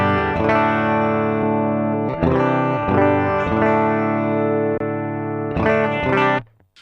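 Electric guitar run through a NUX Solid Studio power amp simulation set to EL34 tubes, sustained overdriven chords and riffs with a touch of reverb, played alone and fading out at the end.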